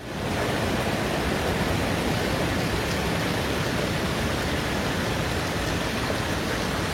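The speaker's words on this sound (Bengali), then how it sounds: "পাহাড়ের কোলে পাথরের ওপর বয়ে চলা জলরাশি" Water rushing over rocks at Bindu in the hills, a steady, dense broadband roar that stays at the same level throughout with no pauses.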